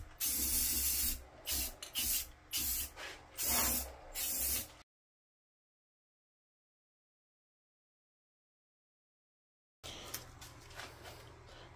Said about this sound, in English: take a spray like this. It's just gonna let air out of the can and not paint